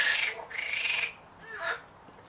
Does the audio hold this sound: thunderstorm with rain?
no